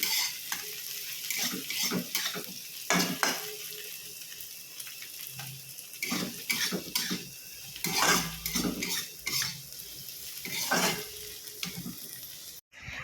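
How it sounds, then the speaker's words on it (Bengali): Sliced okra and onion fry in a pan in a home kitchen, with a soft sizzle under frequent spatula scrapes and clinks of utensils against the metal, close and fairly quiet. "তো সেই জন্যে পেঁয়াজ দিয়ে ভাজছি ভেন্ডি পেঁয়াজ ভাজাটা।"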